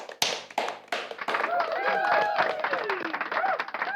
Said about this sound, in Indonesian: Boleh tepuk tangan buat kakak-kakaknya?